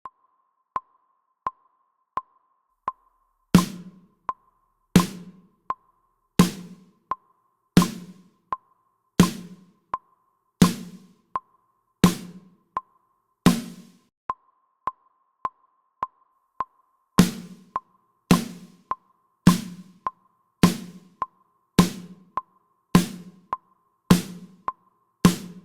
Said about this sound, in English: the snare drum should sound like this